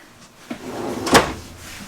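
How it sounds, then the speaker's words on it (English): Drawers in a 2023 Airstream Globetrotter 28-foot RV opened and shut, with a soft knock near the half-second mark and a louder sliding clack just past one second, both close and clear in a quiet interior. "let's go ahead and open up some of these drawers down below"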